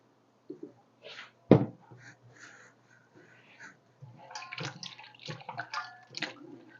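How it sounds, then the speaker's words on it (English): Water splashes and trickles in short bursts as cut potato chips are rinsed of starch, with a sharp clunk near the start and busier sloshing and dripping toward the end. "The thing to do now is to rinse these off and wash the starch off of them."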